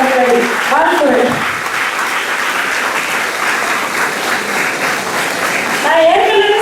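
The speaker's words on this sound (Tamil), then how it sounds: "நம்மிடம் இருப்பது அருமையான கைத்தட்டல்கள் தான்." An audience claps continuously, the dense applause close and sustained. Someone speaks over it at the start, and again near the end.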